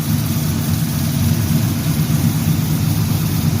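A carbureted engine in a 1974 Chevy Caprice idles while it warms up on a winter day. It gives a loud, steady low rumble that runs unbroken throughout, with no talking.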